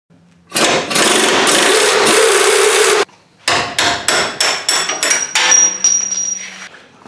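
Pivot bolts are hammered out of the axle on a 1992 Ford Bronco during a lift kit install: a burst of rapid pneumatic hammering, a brief pause, then a series of loud, close, separate metallic blows.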